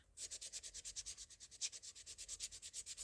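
A decorative paper strip is sanded by hand in quick, even strokes, a steady rhythmic scratchy rub repeating about six times a second, close up and alone.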